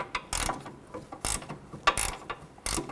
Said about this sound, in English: I'm going to take a 19mm ratchet wrench and a 5mm hex socket and tighten this down